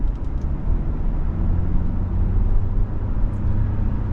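A 2024 Kia Sportage EX Hybrid with a small 4-cylinder pulling away and driving, a low steady rumble of road and engine noise heard from inside the cabin.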